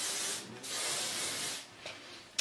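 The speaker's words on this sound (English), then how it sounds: "and then I'll just take some hairspray" Hairspray mists onto curled hair in two soft, breathy bursts of about a second each, close by, followed by a faint short puff and a small clack at the end.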